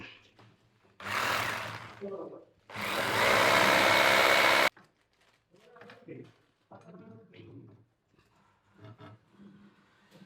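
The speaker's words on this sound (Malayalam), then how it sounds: "നമുക്ക് ഇതിനൊന്ന് ഡ്രിൽ ചെയ്ത് കൊടുക്കാം." An electric drill bores into a bathroom fitting during bathroom renovation work, giving two loud bursts of whirring close by, with talk before and after.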